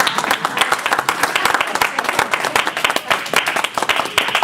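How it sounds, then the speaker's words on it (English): Audience applause from a seminar crowd, dense overlapping claps filling the room at steady loudness throughout, close and continuous. "appreciate that with an applause."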